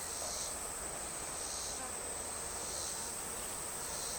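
A swarm of honey bees crowds onto a newly swarmed hive, filling the air with a dense, continuous buzzing hum that stays even and moderately faint throughout, with no voices.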